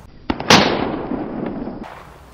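Single close, sharp revolver shot fired at a 48-yard target outdoors, a loud crack preceded by a small click, followed by a ringing, decaying echo.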